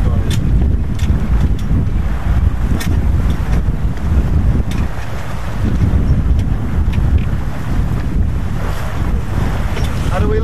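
Strong wind roars and buffets across the microphone aboard a racing sailboat, with rushing water and waves beneath, continuous and loud throughout.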